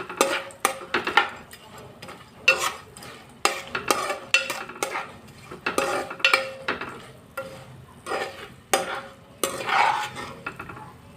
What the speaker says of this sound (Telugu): పసుపు వేసుకుంటున్నామండి కాస్త వేయించుకుందాం ఈ రొయ్యల్ని పసుపు వేసి